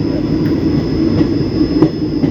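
Steady low rumble of a moving train, loud and close, with a constant high whine and occasional faint clicks from the wheels.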